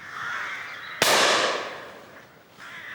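A single sharp gunshot cracks out while hunting rooks, a loud, close blast with a long fading tail, set against open outdoor air with faint crow-like calls before and after.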